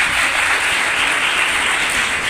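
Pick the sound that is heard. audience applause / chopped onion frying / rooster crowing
audience applause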